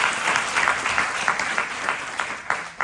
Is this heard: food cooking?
no